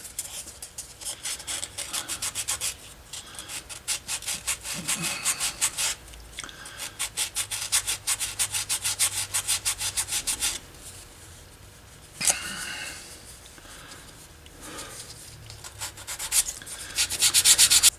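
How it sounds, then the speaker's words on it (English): Rhythmic hand sanding on a wooden tool chest handle, quick repeated back-and-forth rasping strokes in bursts with short pauses between, close up. "So I finished sanding"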